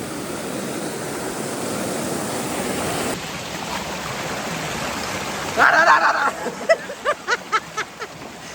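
A waterfall with rising water roars steadily as a broad rushing wash that softens partway through, and a few voices break in near the end.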